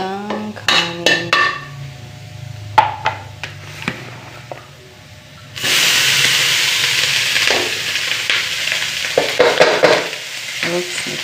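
Rice is tossed into a pan of oil with browned garlic, bursting into a loud, steady sizzle after a few clinks and scrapes of a utensil, with stirring scrapes continuing over the frying hiss.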